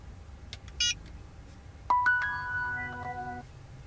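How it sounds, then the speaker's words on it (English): A short phone notification chime of a few bright, clean tones rings out alone after faint earlier beeps, close and moderately quiet over a low background hum. "I just got a notification on my phone that it has started uploading videos from the front camera."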